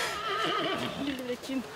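A dressage horse at a riding centre gives a clear, wavering whinny lasting over a second, close and moderately loud against light background noise.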